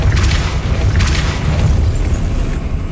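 A Depulso spell cast in Hogwarts Legacy gives a loud, deep rumbling boom that fills nearly three seconds, with a few crackling bursts riding on top and no voices.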